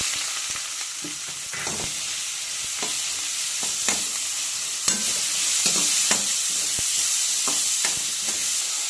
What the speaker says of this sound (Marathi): आता हे मध्यम आचेवरती आपल्याला कांदा थोडासा मऊसूत होईपर्यंत फ्राय करून घ्यायचा आहे